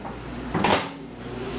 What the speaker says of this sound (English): what I just done there was open and close the door to reverse the rotation